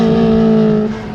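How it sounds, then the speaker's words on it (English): Ferrari 360 Challenge Stradale with an F1 automated gearbox blips through a downshift, a loud, close, sustained engine note that holds briefly and then drops away as the revs fall. "it still does these lovely downshifts"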